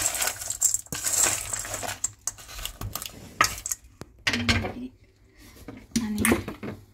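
A spoon stirs chatpat in a bowl, loud close scraping and clinking with a few sharper knocks and a short pause partway through, with no talking.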